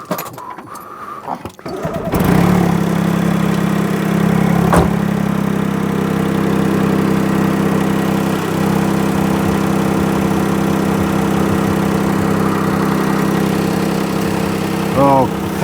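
A Smart ForTwo car engine cranks and catches after a couple of seconds, then settles into a close, steady idle that runs evenly to the end.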